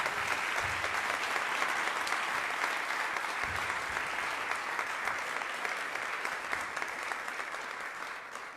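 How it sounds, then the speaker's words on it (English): A fundraiser audience at ISKCON New York gives sustained, even applause, a dense wash of clapping that holds steady and fades gently at the end. "Please give him another round of applause."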